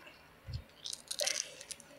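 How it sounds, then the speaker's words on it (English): Close-up chewing of food, a low soft bite followed by a cluster of wet, crunchy mouth sounds over about a second, near and fairly quiet with no talk. "Stop chewing so close to the camera."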